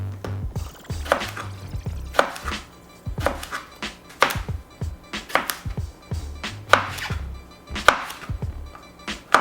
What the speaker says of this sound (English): I can just cut these up how they are and just eat them